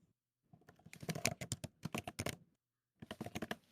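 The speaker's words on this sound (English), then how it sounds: "Ben Holmes is typing" Rapid keystrokes on a computer keyboard, a close burst of clicking taps that pauses briefly before a second short flurry, quiet and alone.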